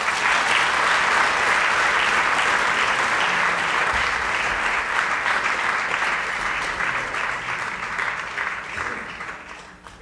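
Steady, loud audience applause welcoming Lieutenant Colonel James Greene, a dense clapping crowd sustained for about ten seconds and slowly tapering toward the end.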